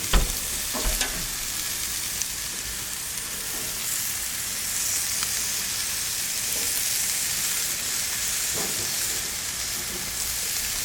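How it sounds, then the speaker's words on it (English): Peameal bacon searing on a grill gives a steady, broad sizzle that holds throughout, with a few soft clicks and knocks near the start. "nice little sear as it goes on, and we're just going to pop them on"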